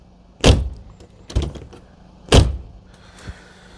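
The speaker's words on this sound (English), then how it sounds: "This door has stopped latching properly, so let's just quickly adjust that." Car door of a Citroen 2CV shut repeatedly after its latch is adjusted: three sharp, close metallic slams evenly spaced, followed by a softer fourth thunk, with quiet pauses between.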